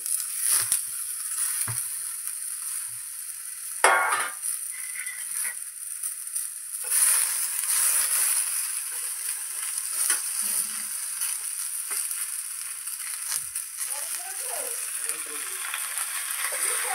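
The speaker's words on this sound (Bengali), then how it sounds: "এই শিম আলু আর বেগুন দিয়ে দিলাম গরম কড়াতে, দেখতেই পাচ্ছ তোমরা। এবার এটাকে একটু ভেজে নেব।" Beans, potato and eggplant fry in a hot wok, giving a steady, fairly quiet broadband sizzle with occasional stirring scrapes and clatters; no one speaks.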